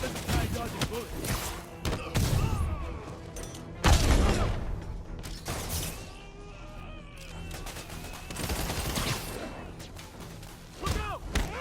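Police officers firing guns during a fight in Marvel's Spider-Man, with repeated shots and thuds that blur into a dense, loud battle mix, while voices shout over the action throughout.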